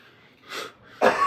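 Two short coughs come close together, the second sharper and louder, from a single person nearby with no talk around them.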